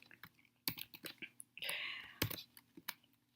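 Someone types code on a computer keyboard, producing scattered soft key clicks in uneven bursts, with a brief hiss partway through, quiet and close.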